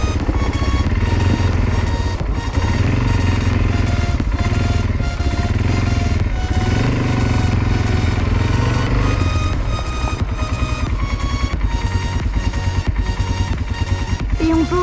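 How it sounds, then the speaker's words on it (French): A Kymco Maxxer 300 quad's engine runs steadily at low, gentle revs while it creeps forward slowly, still not fully warmed up. The drone is close and continuous, with an even mechanical rumble throughout and no talk. "Le moteur n'est pas très chaud, donc on ne le pousse pas trop fort,"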